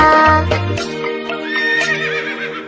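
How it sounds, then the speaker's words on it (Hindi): A horse gives a loud, close neigh and whinny, with a few hoof clip-clops at the start, in a Hindi nursery rhyme for kids. "दौड़ा दौड़ा दौड़ा घोड़ा दुम उठा के दौड़ा।"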